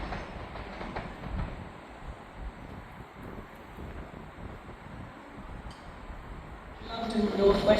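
A London Northwestern Railway four-coach train arrives at a Stoke-on-Trent platform, a low rumbling roll with wind buffeting the microphone, building louder near the end as the units draw close.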